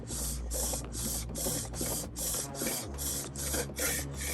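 A dull kitchen knife saws firmly through tape in steady back-and-forth strokes, about nine rasping passes in a regular rhythm, close and fairly loud, with no talking.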